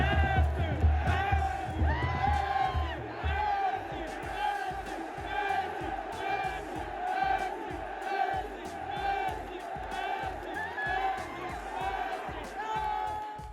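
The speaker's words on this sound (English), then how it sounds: "In a match where they eliminated Al Nassr, the crowd was shouting this at Cristiano Ronaldo." A large crowd of Al Hilal football fans at a match against Al Nassr shouting at Cristiano Ronaldo, with a continuous loud roar of chanting voices carrying rhythmic pulses over steady low thumping throughout.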